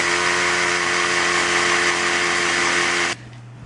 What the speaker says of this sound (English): if ever you're drilling into an outside wall of a really, really old house, it's quite possibly stone